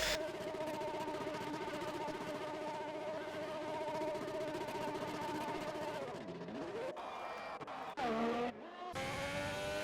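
Formula 1 race cars in the F1 2020 video game howl at high revs with a steady tonal whine, then shift down and scrub through a corner with tire squeal and clattering engine note changes.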